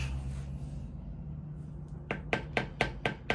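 A mallet strikes a beveler to tool the curve of a leather piece, making six crisp, close taps in a quick, even rhythm near the end after a quiet stretch, with no talking.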